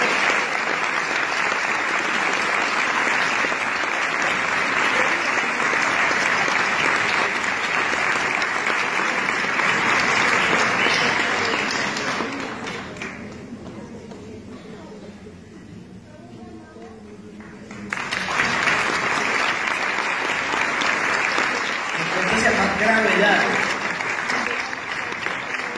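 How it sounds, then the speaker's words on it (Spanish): Loud, sustained audience applause at an award ceremony in Bogotá, dipping to a quieter lull midway before rising again, with voices and a presenter's speech heard beneath it. "Un aplauso, por favor."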